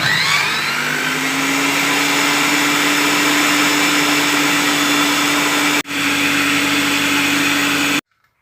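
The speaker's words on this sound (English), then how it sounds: "so I'm going to have to use my blender" A loud, steady whir of a handheld blender puréeing blackcurrants, running continuously for several seconds, briefly dipping once before cutting off abruptly.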